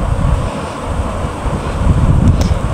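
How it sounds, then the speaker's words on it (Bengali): Cool river wind buffets the microphone in a steady low roar with gusty surges, and a faint wash of moving river water sits underneath. "নদীর বাতাস খুবই ঠান্ডা সুমিষ্ট"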